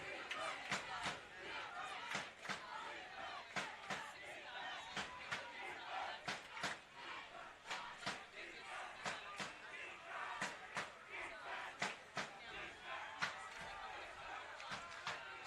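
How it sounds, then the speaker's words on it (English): A crowd at a high school varsity football game between Lexington and Arlington roars steadily, with sharp bangs, slams and shouts punctuating the broadband cheering throughout. "The Lexington sideline trying to get this crowd back into it."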